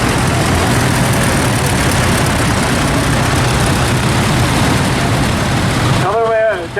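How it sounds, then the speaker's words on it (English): A Massey Ferguson 135 tractor's diesel engine runs steadily at a rally, a loud, dense rumble that continues unbroken until a voice cuts in at the end. "Another rear Massey Fergie 135 diesel engine, very popular tractor"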